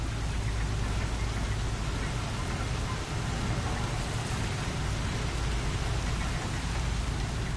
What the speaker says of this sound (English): I'm sure this would be a lot prettier if it wasn't raining.